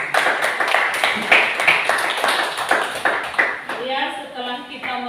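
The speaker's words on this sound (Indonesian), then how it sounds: "kita berikan tepuk tangan untuk kelompok 5" Classmates in a school lesson clap for a presenting student group, a busy patter of hand claps that tapers off near the end as a voice starts speaking over it.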